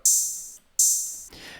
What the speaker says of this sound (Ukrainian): Також є тут три опенхети, які звучать ось так.